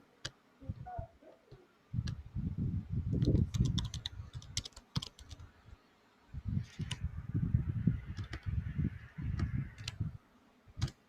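Typing on a computer keyboard, heard as two long bursts of dense, close key clatter separated by a brief pause, with a few sharper isolated key taps standing out and no talk over it.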